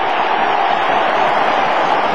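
A large football stadium crowd at an AFL match between West Coast and Fremantle roars in a loud, sustained wash of cheering and shouting, dense and unbroken throughout.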